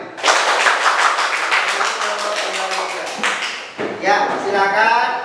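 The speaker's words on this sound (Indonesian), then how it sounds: "tepuk tangan semuanya" Students in a classroom clap their hands together, a dense rapid patter of many hands at close range, while voices talk and call out over the clapping.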